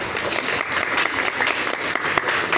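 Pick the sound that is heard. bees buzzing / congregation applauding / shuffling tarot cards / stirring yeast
congregation applauding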